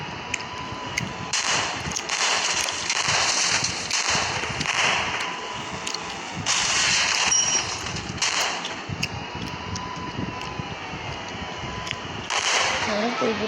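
Firecrackers burst in a series of loud, sharp cracks, some close together and some spaced apart, with people talking in between.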